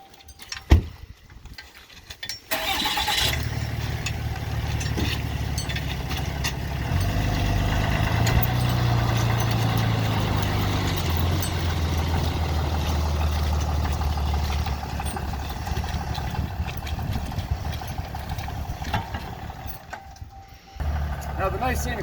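A truck engine near a log splitter and pile at a work site starts with a rough turnover, then idles and revs in a low steady rumble before cutting off, close and fairly loud while someone speaks over parts of it.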